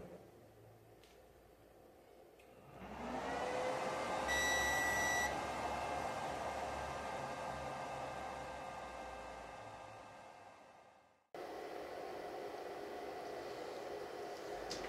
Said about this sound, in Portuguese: eu vou ligar a ventoinha